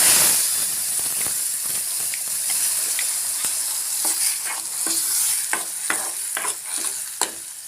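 Brinjal gojju with turmeric and ground masala paste bubbles and sizzles steadily in a pan, with a continuous hiss broken by sharp stirring scrapes and pops close by.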